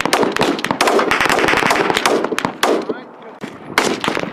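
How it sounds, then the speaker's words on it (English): Marines fire at a Green Ivan target in dense, overlapping bursts of rapid gunfire, loud cracks tumbling over one another almost continuously with only brief lulls. "the target that they're shooting at right now is called a Green Ivan"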